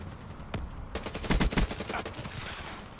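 Sustained rapid light machine gun fire in the video game Black Ops 3, a dense loud burst of shots after a single earlier report, with no talking.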